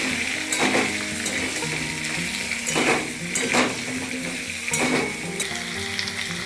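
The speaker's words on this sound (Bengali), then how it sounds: "এইবারে আলু কুমড়োগুলোকে দিয়ে অল্প একটু সাঁতলে নিয়ে" Diced potatoes and pumpkin sautéing in oil with asafoetida for a Bengali kumror chokka, a loud close sizzle broken by repeated metal spatula scrapes and clinks against the pan, with no voices.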